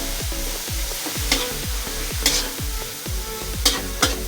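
Fermented black beans (tausi) sizzle in a frying pan as a spatula scrapes and stirs in a steady, repeated rhythm, with a few sharper clanks, close up and with no talking.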